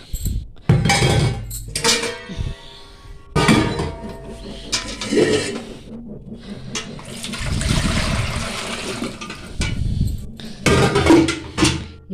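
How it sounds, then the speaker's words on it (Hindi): Tea cups and meal dishes are scrubbed and rinsed in a home kitchen sink, with running water splashing and utensils clinking and clattering in irregular bursts throughout, close and fairly loud. "चाय के बर्तन धो लूंगी, उसके बाद खाने के बर्तन धोऊंगी, सिंक धोऊंगी"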